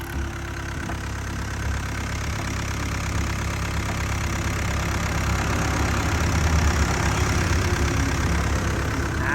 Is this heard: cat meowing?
no